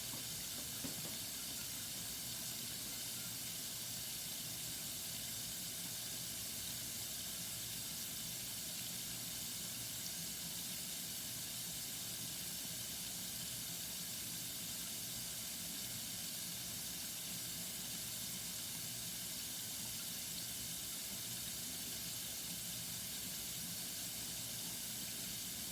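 Tap water pours in a steady, hissing stream over a batch of mushrooms, constant and unbroken with no voices.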